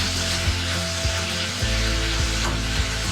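A garlic clove fries in a pan of oil for paneer butter masala, giving a steady close sizzle with a low humming undertone and a few soft scrapes of a spatula.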